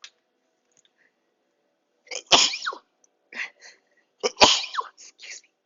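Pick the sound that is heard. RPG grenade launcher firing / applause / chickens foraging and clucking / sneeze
sneeze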